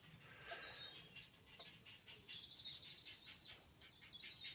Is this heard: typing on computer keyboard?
no